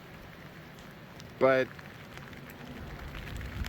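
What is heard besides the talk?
rain falling during Hurricane Ian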